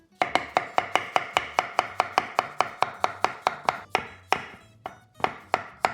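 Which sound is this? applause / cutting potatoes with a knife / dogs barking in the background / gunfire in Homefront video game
cutting potatoes with a knife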